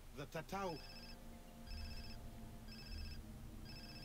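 A mobile phone rings in Far Cry 3, a repeating electronic ring tone in four evenly spaced bursts, following a short burst of speech at the start.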